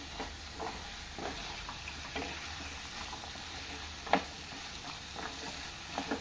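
Chickpeas and tomatoes fry in a pan for a chickpea curry, giving a steady, soft sizzle with faint crackles and an occasional sharper pop, heard alone without voices.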